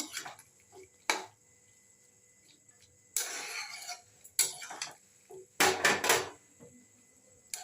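Ghee-coated fig (dumur) curry being stirred in a pan, heard as a few separate scraping, clinking spatula strokes with quiet gaps between them, fairly close and with no talking.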